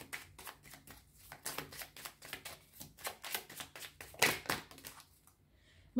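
Tarot cards are shuffled and laid out nearby, a quick series of papery riffles and flicks in uneven bursts, then a quiet moment with a faint tap at the end.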